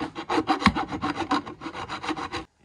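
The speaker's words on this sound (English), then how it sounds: "Then take a file and file off the burrs." Rapid back-and-forth rasping of a metal file deburring a cut edge on a Victron Lynx distributor busbar, a dozen or so quick close strokes in steady rhythm, then stopping, with no talk.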